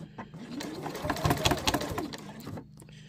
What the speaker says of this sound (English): now I still want to backstitch a couple over there